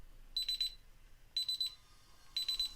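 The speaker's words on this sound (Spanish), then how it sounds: "Vamos a conectar la alarma." A home security alarm goes off after a magnetic door contact opens, sounding three evenly spaced bursts of rapid high electronic beeps in a quiet room, each burst about a third of a second long.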